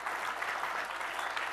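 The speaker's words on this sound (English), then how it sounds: "So let's give them a round of applause." Audience applause at a safety talk, steady dense clapping from many hands throughout, moderately distant with no voices over it.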